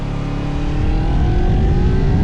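A KOVE 250RR sport motorcycle engine revs steadily on a test ride, its pitch climbing smoothly as the throttle opens, loud and close with a continuous buzzing drone and wind rush.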